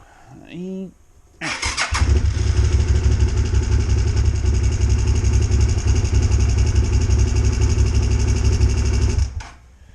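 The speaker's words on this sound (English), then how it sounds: "But yeah, the bike it'll start." A motorcycle engine starting and running in a garage, one loud steady close-up idle that lasts about eight seconds and then cuts off, after a brief voice at the start.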